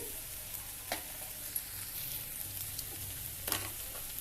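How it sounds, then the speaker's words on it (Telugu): Moringa leaves fry in hot oil in a pan, a steady soft sizzle with faint stirring scrapes and occasional small pops. "ఒక రెండు నిమిషాలు ఆయిల్లో కొంచెం ఫ్రై అయితే చెమ్మ లేకుండా బాగుంటుంది"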